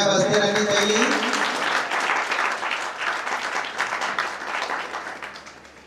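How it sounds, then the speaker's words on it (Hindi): Audience applause at a school Tulsi Jayanti recitation event, a dense sustained clapping from a crowd that starts loud and slowly fades over several seconds. "तालियां बजती रहनी चाहिए।"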